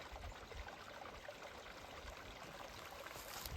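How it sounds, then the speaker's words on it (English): Water runs steadily outdoors by a snowy lakeside, a soft continuous rushing wash that stays even throughout with no voices. "The water's running."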